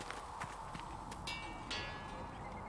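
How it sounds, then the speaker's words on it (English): Horse hooves clip-clop through a Dragon Age: Inquisition game scene, a faint, irregular patter of light hoof taps set against a steady background hiss. "Have you seen the horses Master Dennett sent the Inquisition"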